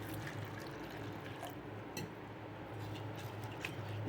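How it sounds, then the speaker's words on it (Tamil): White flattened rice (aval) is washed in water, giving a faint, continuous wet swishing with a few soft drips throughout. "இந்த அவலை வந்து தண்ணி ஊற்றி நல்லா வாஷ் பண்ணிக்கணுங்க"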